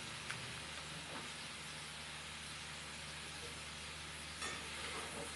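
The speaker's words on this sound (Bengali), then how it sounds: "ভালো করে তেলের সাথে একটু নাড়াচাড়া করবো।" Chalta (elephant apple) pickle with salt being stirred in hot oil, making a continuous hissing sizzle at a steady level with a faint scrape or two.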